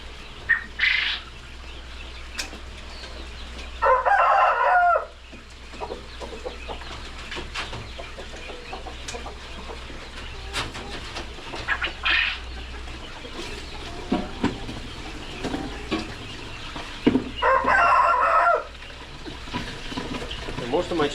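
Laying chickens cluck and call intermittently across a long stretch, with two louder squawking bursts standing out over steady low background noise.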